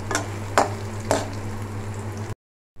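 Dried red chillies roasting in hot oil in a pan for a Kerala-style chammanthi: a steady close sizzle with a few sharp clinks of a spoon against the pan, cutting off abruptly at the end.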